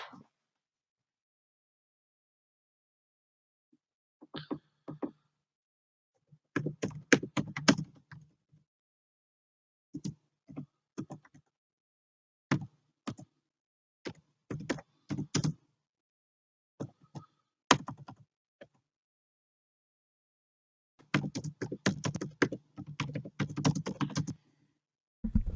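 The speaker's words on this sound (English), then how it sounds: "he's just typing randomly in the chat" Someone typing on a computer keyboard in irregular bursts of fast clicking, separated by short pauses, close and fairly quiet with no talking.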